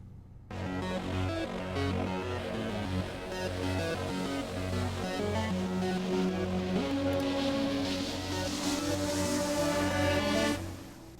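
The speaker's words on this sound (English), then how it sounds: "They sound like this when they are layered together for the match start." Layered match-start cue for the video game Infested: a dense, loud wall of stacked tones and rumbling low texture swelling over about ten seconds, with melodic lines emerging partway through before it cuts off abruptly.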